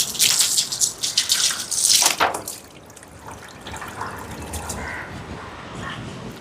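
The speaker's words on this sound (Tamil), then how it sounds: "இப்போ எங்களோட உலைக்கு தேவையான அளவுக்கு தண்ணியை நிறைச்சி எடுப்போம்." Water gushes and splashes as a cooking pot is filled for an outdoor Sunday lunch, a loud turbulent pour for the first two seconds, then a softer steady trickle with faint background noise.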